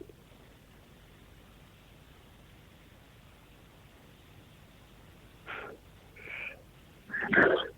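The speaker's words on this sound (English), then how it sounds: "Excuse me, I'm going to sneeze." A couple of short, sharp breaths build up to a single loud sneeze at the end, close by in an otherwise quiet room.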